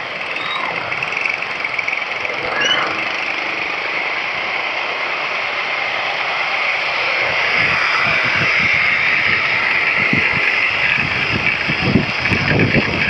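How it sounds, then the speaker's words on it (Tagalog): Heavy, unrelenting rain in the late afternoon, pouring down as a steady broadband roar that swells louder through the second half, with no voices. "Walang humpay yung ulan."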